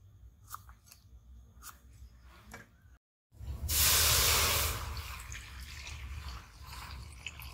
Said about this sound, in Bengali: আমি এই জলপাইগুলো এইভাবে মুখটা কেটে দেবো, দিয়ে একটু এইভাবে চিরে নেবো